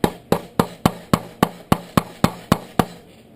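A hammer gently tapping the back end of a stuck handle during disassembly of a Nova, eleven evenly spaced sharp metallic taps about every quarter second, close and alone.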